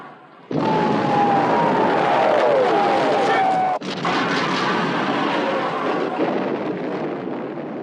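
Naval guns on a WWII battleship in the 1960 film about the Bismarck fire in heavy, booming blasts, one at the start and another midway, with rumbling aftermath and shouted voices throughout.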